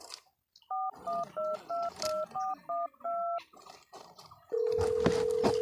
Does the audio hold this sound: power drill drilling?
no